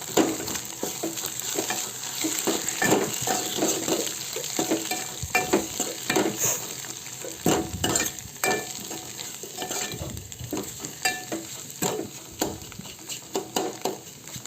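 Spices and masala (turmeric, chilli powder, salt, chicken masala, garam masala, coriander powder, ginger paste) frying in oil for an egg curry, with steady sizzling and repeated scraping stirs of a spoon against the pan throughout, fairly close.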